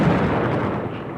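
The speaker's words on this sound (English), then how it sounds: "You're about to witness the mother of all bombs." A massive air-blast bomb detonation, the MOAB: a deep, loud, rumbling roar filling the whole brief moment with low-frequency force and no voices.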